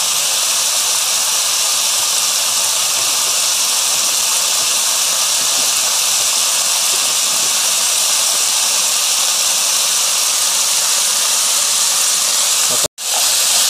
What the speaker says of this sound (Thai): ก็ผัดสักแป๊บแล้วก็เสิร์ฟได้เลยครับ